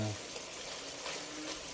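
Water pours steadily into a pan of pork adobo being cooked in fat, a brief sizzling gush that stays loud and even for under two seconds.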